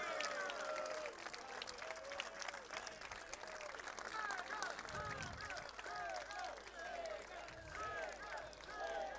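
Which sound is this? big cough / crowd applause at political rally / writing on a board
crowd applause at political rally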